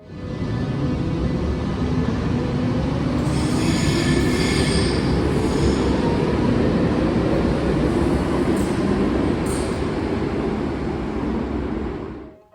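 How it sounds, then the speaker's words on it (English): A four-car Munich U-Bahn subway train rumbles loudly and continuously for over ten seconds, with rolling wheel noise and faint high squeals on the rails, close by. "I got footage of something seemingly rare on the Munich U-Bahn, a 4-car train."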